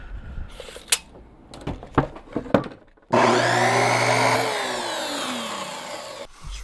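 A saw making a 45-degree angle cut in quarter round trim inside a van, first a few sharp knocks and taps, then a loud steady whining cut lasting about three seconds before stopping abruptly.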